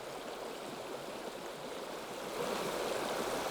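A river flows over stepping stones with a steady, broadband rushing wash of water, constant and fairly close, swelling slightly louder toward the end, with no voices.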